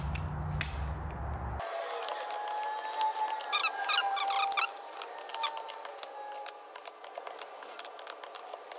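Bead lock bolts on a RZR Pro R wheel being retorqued with a click-type torque wrench, giving a series of close, sharp ratcheting clicks and creaks in bursts over a quiet background with no talk.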